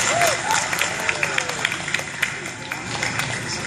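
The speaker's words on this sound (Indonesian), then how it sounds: "Tepuk tangan untuk kita semua." A crowd at a district ceremony for National Santri Day claps together, steady dense applause with a few sharper claps standing out.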